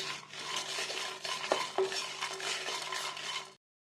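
Dried red chillies fry in a pan alongside coriander seeds and cumin, a continuous crackling sizzle with light stirring scrapes and a couple of sharper knocks, cutting off abruptly at the end.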